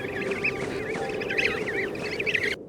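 A group of emperor penguin chicks on Antarctic snow gives repeated warbling, wavering whistle calls, several voices overlapping steadily and fairly close, until the sound cuts off abruptly near the end.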